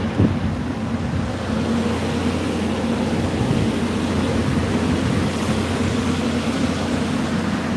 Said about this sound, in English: the wind has shifted directions